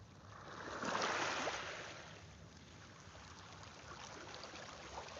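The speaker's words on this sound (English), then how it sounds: "These rocks make an amazing sound as the tides come in and out." Ocean tide washing in over beach rocks at Dutch Harbor, Alaska, a soft steady wash that swells briefly and then settles into a faint continuous hiss, heard from a distance with no talk.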